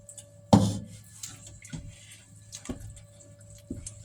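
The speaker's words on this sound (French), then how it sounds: "Je vais ajouter un peu de l'eau." Water is poured into a banana cake flour mixture in one short, close splash, followed by a few faint drips and light stirring noises in an otherwise quiet kitchen.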